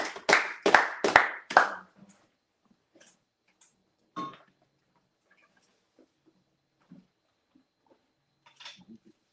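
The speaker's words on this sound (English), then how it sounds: "Clap it up real quick." A few sharp hand claps from a congregation at a Sabbath service, a quick burst of about five loud slaps lasting under two seconds, followed by near silence with scattered faint knocks and a single isolated clap later.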